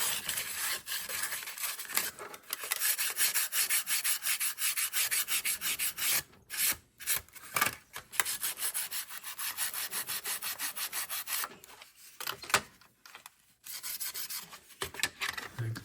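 A Scotch-Brite pad scrubs paint off an RC truck body, a rapid close rasping rub repeated in steady strokes, with brief pauses between bursts and no talk.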